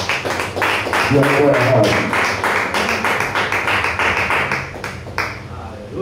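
A church congregation claps hands together in steady, loud, continuous applause that fills the room, with a voice speaking over it.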